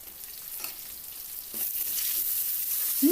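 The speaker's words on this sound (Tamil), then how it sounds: "பாருங்கள், வெங்காயம் நல்லா வதங்கியிருக்கு." Onions sauté in a pan for yam (karunai kilangu) kuzhambu, a soft continuous sizzle that grows louder halfway through, with occasional faint stirring knocks.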